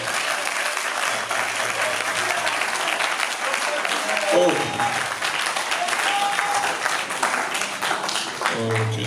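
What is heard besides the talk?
congregation applause and cheering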